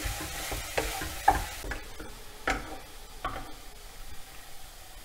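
A chili and coriander powder mixture is stirred in a pan, giving a soft dry scraping and a few sharp taps of the spoon against the metal. The stirring comes in irregular strokes under a faint sizzle.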